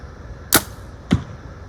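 An arrow loosed from a bow with a thumb-button release, a sharp swish of the shot followed about half a second later by a solid thud as it strikes the target.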